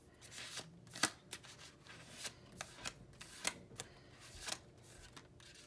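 Tarot cards being shuffled by hand, a run of crisp riffling and flicking bursts with a few sharper card snaps, close and quiet, no talking.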